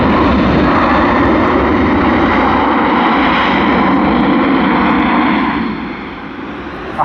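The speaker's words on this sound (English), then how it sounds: "Look at what we got here. Atlas A, the Boeing 747. Queen of the skies." An Atlas Air Boeing 747 jet at Sydney Airport roars loudly and steadily as it passes close by, the broad engine rumble easing slightly toward the end.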